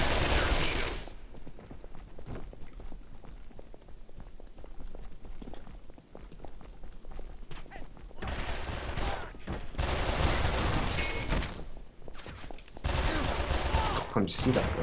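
Rapid bursts of gunfire from the Western shooter game Call of Juarez: The Cartel crackle in dense, loud volleys, broken by brief pauses and a few heavier blasts, with faint voices underneath.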